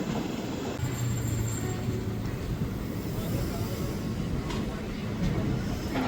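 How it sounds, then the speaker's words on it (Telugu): Train pulling into Tirupati station, a continuous low rumble with rattling and clatter heard from on board, steady and fairly loud throughout. "తిరుపతిలోకి వచ్చింది ట్రైన్ స్టేషన్లోకి."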